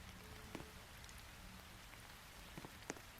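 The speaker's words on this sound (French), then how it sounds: "aller me cacher de cette pluie" Rain falls in the Roblox game Brookhaven as a steady, quiet patter with a few sharper drops striking a surface, heard alone without talk.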